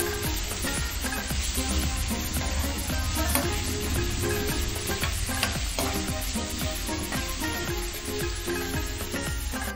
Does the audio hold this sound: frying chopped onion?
yes